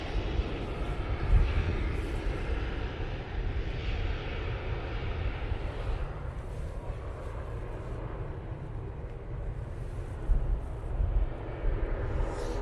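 A departing airliner at Manchester Airport gives a steady, heavy jet engine roar that holds for the whole stretch with a broad low rumble, a little louder near the start and the end, and no voices.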